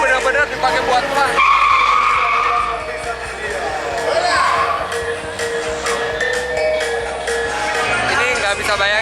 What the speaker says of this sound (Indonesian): Mobilnya jalan.